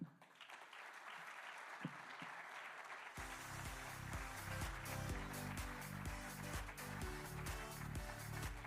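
An audience applauds a speaker, Pierre-Alain Raffan, at a sport and tech conference. The dense, steady clapping starts out faint and thin, then carries on under loud music that swells in partway through.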